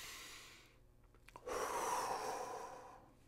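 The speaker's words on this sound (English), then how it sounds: "Breathing in through the nose, out through the mouth." One slow, calm breath, drawn in through the nose and then let out through the mouth as a longer, airy exhale, close, soft and alone.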